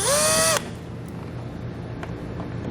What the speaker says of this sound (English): we're first going to have to remove the 2 Phillips head screws that's holding our removable panel in place